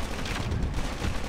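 PDW gunfire in Call of Duty Mobile, a continuous loud wash of shots and booming blasts blurred together, close and dense, with no speech.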